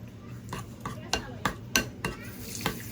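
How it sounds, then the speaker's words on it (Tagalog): Salt being stirred into sautéed onions in a pan, with a utensil scraping and tapping the pan in a series of about ten sharp, close strokes over a soft sizzle. "Haluin natin ang mabuti para matunaw yung asin natin."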